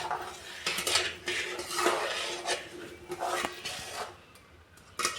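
Sweet Indian mithai mixture stirred by hand in a pan set off the gas, with repeated scraping and clinking of a utensil against metal at a close, uneven rhythm.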